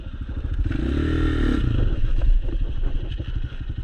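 A pit bike motorcycle revs hard on a dirt race track, a loud close engine rising in pitch then holding a rough, clattering drone throughout.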